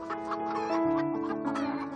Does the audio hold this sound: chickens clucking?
yes